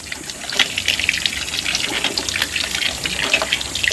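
Water gushes from a hand-operated pump at a house, a close, loud, continuous splashing rush with slight pulses in the flow.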